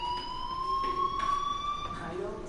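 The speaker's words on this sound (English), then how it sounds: "do you hear that fire alarm?" A fire alarm rings in the video game Life is Strange, a steady electronic tone with ringing overtones that holds for the whole stretch with a slight upward drift, loud and continuous under faint background noise.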